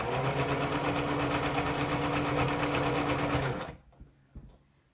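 A sewing machine stitches stretchy T-shirt knit fabric for a dress waistband, running loud and steady for about three and a half seconds before stopping abruptly, followed by a few faint handling clicks.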